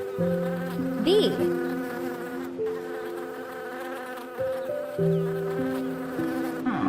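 A bee buzzing: a steady, close, droning hum with slight shifts in pitch and loudness as it moves, continuing without pause.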